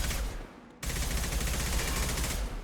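Sustained gunfire from the video game Mass Effect 2, a loud dense burst that briefly drops near the start, then resumes and continues steadily for the rest of the clip.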